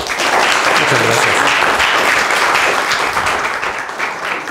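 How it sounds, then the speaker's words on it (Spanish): A lecture audience applauds a speaker after a talk on glaciations in Mexico's mountains and climate change, loud continuous clapping filling the room with no speech over it. "Les pido un aplauso"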